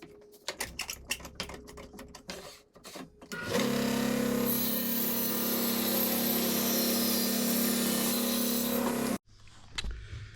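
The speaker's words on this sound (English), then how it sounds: "Let's move over to the table saw." A table saw cuts through a walnut slab with a loud, sustained whine that holds steady for several seconds, then stops abruptly, with clattering handling noises before and after.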